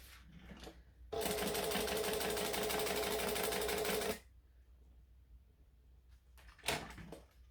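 A sewing machine stitches down fabric during garment alterations in a single fast, continuous three-second burst. Faint clicks and handling sounds come before and after.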